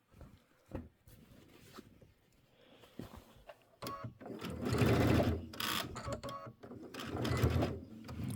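Sewing machine stitching binding onto a quilted table topper, quiet intermittent whirring bursts that grow louder and steadier toward the end, close by.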